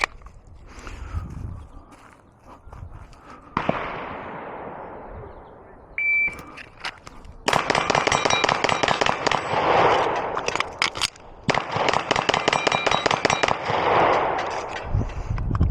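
A Glock 34 pistol fires a rapid string of sharp, loud gunshots at an outdoor range, the shots coming in quick bursts with brief pauses between strings, with some quieter handling noise beforehand.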